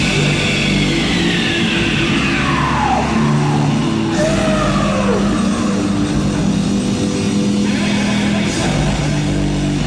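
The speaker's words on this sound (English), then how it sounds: "That scream is so good." Loud played rock recording with a band member's raw, drawn-out scream sweeping downward twice over dense, driving guitars and drums, continuous and full throughout.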